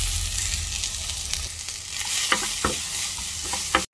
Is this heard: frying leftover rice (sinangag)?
yes